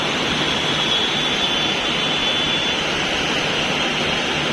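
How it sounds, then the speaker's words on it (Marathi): Steady, loud jet roar of an airplane passing overhead in Mumbai, a broad continuous rumble with no voices. "तो बघा विमान उडते बघा"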